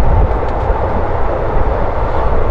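Simhadri Express 17239, a passenger train between Bhimavaram and Visakhapatnam, rumbles along with a steady, loud, dense roar of wheels and carriage noise that holds evenly throughout, with no talk.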